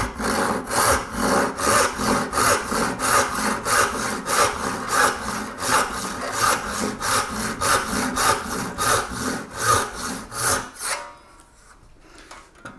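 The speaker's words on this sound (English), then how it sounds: "And then here's the halfback saw." Halfback hand saw cutting through wood, steady rhythmic push-pull rasping strokes close up for about eleven seconds, then stopping into near silence.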